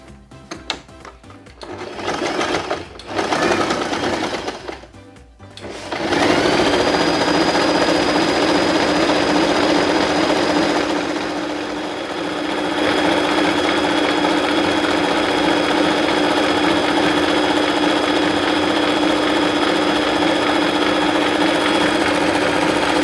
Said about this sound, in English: I will use this knit stitch to sew this fabric